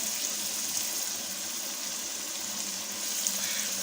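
Chicken matar masala with green chillies and garam masala fries in a pan, giving a steady, even hiss that runs unbroken at moderate level with no voices over it.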